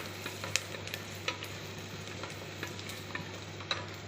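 Onions sautéing in a pan for mutton seeraga samba biryani, a steady low sizzle with intermittent stirring clicks and scrapes, close and moderately quiet, no voices.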